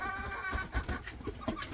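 Village chickens clucking close by, short uneven calls and soft pecking sounds scattered over a quiet farmyard background.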